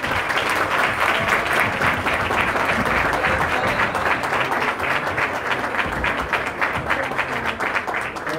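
Warm, sustained applause from a large audience welcoming President Luis Abinader of the Dominican Republic at a national export plan presentation, dense and steady throughout with no pause.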